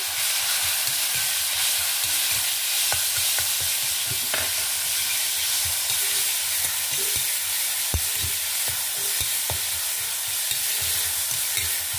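Turmeric, grated tomato and raw mango frying in a pan for a quick raw mango rice, with a steady close sizzle and scattered stirring scrapes and clicks throughout.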